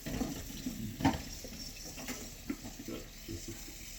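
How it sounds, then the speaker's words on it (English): Tap water runs into a bottle in a steady, slightly gurgling stream, with faint background murmur and small clunks. "I'm gonna fill up my bottle with water."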